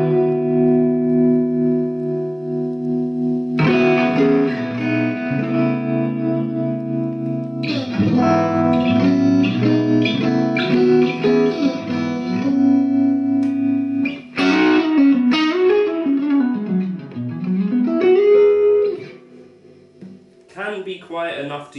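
Electric guitar played through a Vox AC15 amp with reverb and tremolo, chiming chords and single-note phrases that pulse and shimmer with a lingering echo, loud and close, trailing off into quieter notes at the end.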